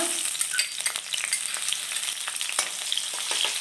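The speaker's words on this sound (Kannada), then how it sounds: "ಇದು ಸ್ವಲ್ಪ ಫ್ರೈ ಮಾಡ್ಕೊಳ್ಳೋಣ" Chopped garlic, ginger and green chili crackle and spit in hot oil, a bright, busy sizzle with scattered pops and stirring scrapes, close and continuous for a few seconds.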